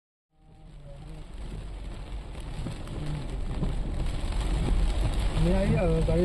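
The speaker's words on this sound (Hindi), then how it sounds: "बहुत बारिश हो रहा है" Heavy rain pours steadily during a thunderstorm, growing heavier and louder, with faint voices and passing traffic underneath the downpour.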